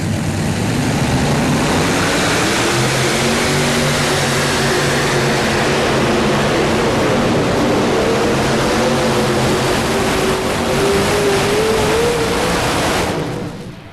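A farm tractor's engine roars at a tractor pull at the 1993 National Farm Machinery Show in Kentucky, a loud sustained drone with shifting pitch that swells midway and cuts off at the end.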